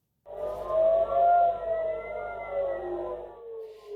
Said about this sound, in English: Sirens rang out today across Tel Aviv after Israel said it intercepted more than 100 Hezbollah rockets